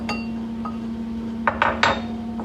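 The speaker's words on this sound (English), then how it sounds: "So 4 grams of sample is added to the piston assembly" Small metal clinks and taps as about four grams of sample is added to a metal piston assembly for pressing an X-ray fluorescence pellet, a few sharp close knocks clustered near the end over a steady low hum.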